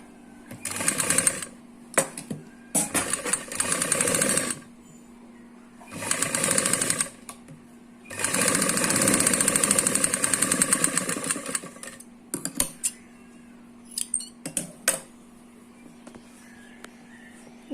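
A sewing machine stitches a Punjabi suit with its needle whirring in several separate runs, some short and one longer and steadier, with brief pauses between bursts.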